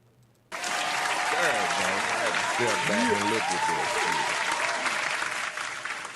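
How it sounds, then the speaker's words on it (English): Applause on a talk show erupts suddenly after a quiet moment and holds as a loud, dense wash of clapping, with voices talking over it, tapering slightly at the end. "I'll give a real clap for that"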